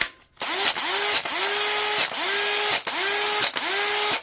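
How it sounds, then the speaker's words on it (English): A Makita cordless drill whirs in repeated short bursts, spinning up and stopping about six times with brief pauses between runs, close and loud, running on a repaired battery. "Try in the drill now to see what happens."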